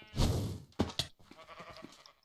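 Sheep bleat in the video game Sheep Quest. Two or three close, wavering bleats come in quick succession, and a softer murmuring call trails after them.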